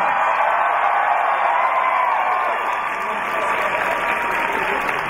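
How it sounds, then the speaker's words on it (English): A convention audience at a fan event breaks into steady, dense applause that fills the room with continuous clapping, loud and sustained throughout, with faint cheering mixed into the crowd. "Come on, round of applause."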